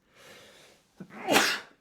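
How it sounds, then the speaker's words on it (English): A single sneeze, close and clear. A soft breathy inhale comes first, then a short catch and a sharp, bright burst that fades quickly. "Or I'm going to sneeze."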